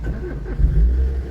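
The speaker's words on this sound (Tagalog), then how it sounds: "Pag umandar na, huwag mo ibabad ang ignition key, masisira yung ating starter." A manual car's engine turns over with the ignition key and catches, settling into a low rumbling idle with a brief rev, close by.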